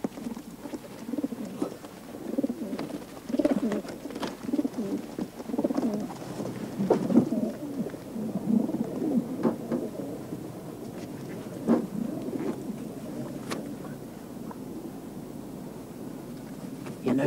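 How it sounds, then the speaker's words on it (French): Domestic pigeons coo in low, rounded bursts at a pigeon loft in the Landes, with many birds overlapping close by in a steady murmur and a few sharper calls and wing sounds mixed in. "Et puis c'est une question d'habitude. On sait où sont nos pigeons."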